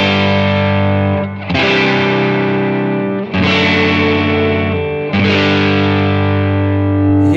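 An electric guitar played through a Strymon overdrive pedal set for first-stage gain, three sustained gritty chords each ringing out for about two seconds, loud and alone.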